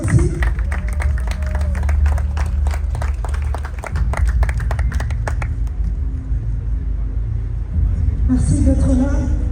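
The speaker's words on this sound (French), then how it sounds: "que je vous demande d'applaudir aussi." An audience at an evening gala in Kinshasa claps for the general manager. Dense, close clapping runs over a low rumble and crowd murmur for about six seconds, then thins out, and voices and noise rise again near the end.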